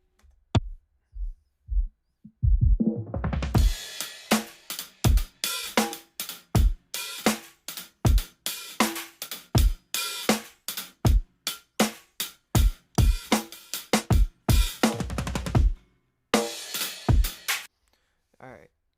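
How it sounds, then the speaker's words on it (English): Mixed drum beat with heavily boosted, compressed drums plays back loud and punchy, with steady repeated hits and a brief pause before the groove kicks in fully. "so all together the drums sound like this"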